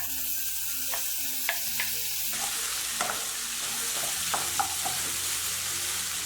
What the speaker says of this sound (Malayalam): ഇതെല്ലാം ഞാനിവിടെ ഹൈ ഫ്ലെയിമിൽ ഇട്ടിട്ട് തന്നെയാണ് വഴറ്റുന്നത് കേട്ടോ